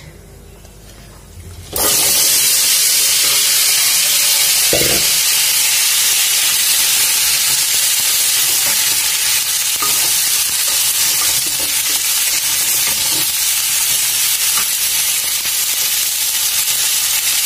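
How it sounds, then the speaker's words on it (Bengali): Cauliflower pieces are tipped into hot oil in a wok-style pan, bursting into a loud, continuous hiss of frying that holds steady after a quieter opening, with faint stirring knocks underneath. "কপিগুলো ভেজে নিব। কড়ার মধ্যে তেল আছে, ওই তেলের মধ্যে ঢেলে দিচ্ছি"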